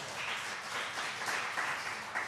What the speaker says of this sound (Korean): 박수 한번 주시겠습니까?